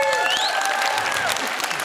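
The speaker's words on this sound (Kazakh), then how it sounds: "неге шапалақ құрмасын?" Guests at a Kazakh wedding celebration give a short burst of applause, a brisk, fairly close clatter of clapping that lasts only a moment.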